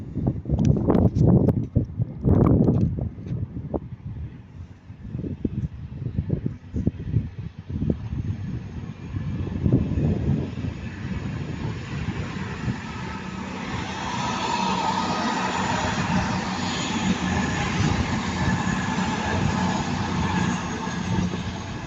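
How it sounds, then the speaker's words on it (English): A CrossCountry Class 220 unit, 220-034, working the late Bournemouth to Manchester Piccadilly service, passes through Ardwick. Its steady rumble and rushing roar build and hold near and loud for the second half, after a quieter stretch of scattered knocks. "And here comes the cross country."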